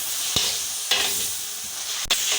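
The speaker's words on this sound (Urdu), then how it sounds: "اس کو اچھی طرح فرائی کر لیں گے مٹر کو۔" Green peas fry in hot oil with chicken in a pan, a steady bright sizzle with a few scrapes of stirring. The sound is close and continuous, with no voices.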